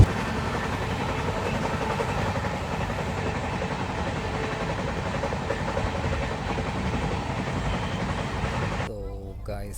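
A steady low rumble and rattle inside a moving passenger train continues throughout, with faint voices under it and an abrupt cut near the end.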